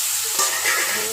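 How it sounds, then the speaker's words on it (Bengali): Chicken pieces poured into a hot pan, giving a brief bright sizzle with a soft splash near the start, then a steady close frying hiss. "এবার চিকেনটা ঢেলে দেবো"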